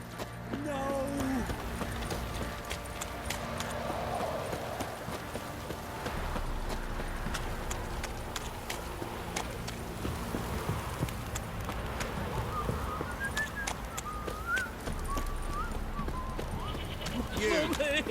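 Horses clip-clop through a village scene in the video game The Witcher 3: Wild Hunt, with steady hoof beats, an occasional whinny and characters' dialogue running over the sound.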